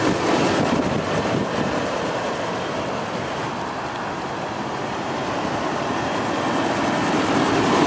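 A 2008 Land Rover LR3 SE with its V8 running, a steady broadband engine drone at a constant level throughout with no pronounced revs.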